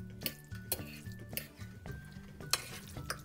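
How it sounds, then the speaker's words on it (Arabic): A salad of chicken is tossed and stirred with olive oil in a bowl, giving steady close scraping and clinking of a utensil in a quick repeating rhythm, with no talking. "ونحطو شوية زيت زيتون شوية زيت ونخلطوها نحركوها"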